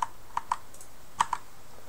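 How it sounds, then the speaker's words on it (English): Single keys are pressed on a computer keyboard, a handful of sharp, close clicks spaced irregularly against quiet background, no talk. "we just push S on our keyboard"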